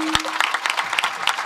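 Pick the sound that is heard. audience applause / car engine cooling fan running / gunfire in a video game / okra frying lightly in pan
audience applause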